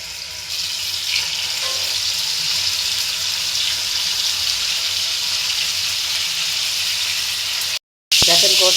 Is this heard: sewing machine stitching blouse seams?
no